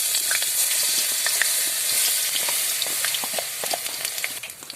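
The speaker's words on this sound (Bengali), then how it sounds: "কড়াই গরম হয়েছে, এবার ডালটা দিয়ে দেবো।" Lentil paste hits hot oil in a wok and sizzles steadily, a dense broadband hiss peppered with small crackles and pops, close and fairly loud, with no voices.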